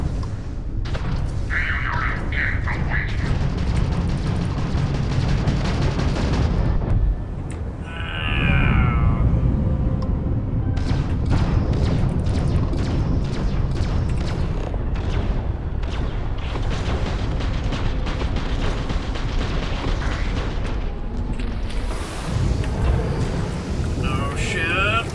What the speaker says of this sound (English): Fire missiles.